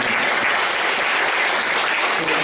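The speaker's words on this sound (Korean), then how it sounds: "아주 유익한 강의를 해주신 양 교수님께 감사의 박수를 드립니다." Loud, dense audience applause thanking a professor after a lecture on inter-Korean economic cooperation, continuous clapping from a packed room filling the whole moment, close and even.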